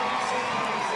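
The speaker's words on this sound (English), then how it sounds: "As Peacock takes the plaudits of this big crowd at London's Olympic Stadium." A big crowd at London's Olympic Stadium cheers after the men's T44 100m final at the 2017 World Para Athletics Championships, a dense, steady roar filling the whole short stretch.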